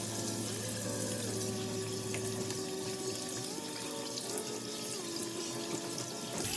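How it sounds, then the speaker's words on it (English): A tap runs steadily while someone washes their hands, giving a close, continuous rushing stream of water from start to finish with no talking. "Don't use cold water, use hot water or warm water. Wash your hands."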